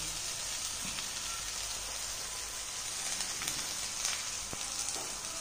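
Flattened rice (kanda poha) frying in a kadai makes a soft, even sizzle with faint crackles and a few stirring scrapes, quiet and without talk.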